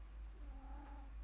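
A small kitten behind a computer gives a faint, thin vocalization over steady low hum and background noise, quiet and indistinct.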